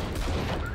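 Rapid gunfire from a pistol in the tactical shooter Valorant, a short dense burst of shots at close range filling the whole moment.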